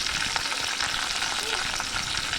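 Onions, dried red chillies, chana dal, ginger, garlic, curry leaves, cumin and mustard seeds fry in a pan for a potato and fenugreek fry, giving a dense, close, crackling sizzle with a few stirring clicks and no voices.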